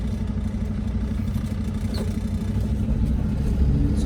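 A car's cabin carries a steady low engine rumble and road drone throughout a food delivery driver's ride, with faint rattles over the top and no speech.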